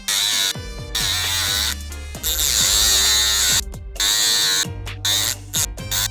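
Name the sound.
rotary tool cutting metal shield on iPhone camera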